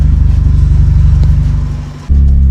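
Mazda RX-7 FD sports car engine while driving, a loud rhythmic rotary drone that fades down briefly before surging back strongly.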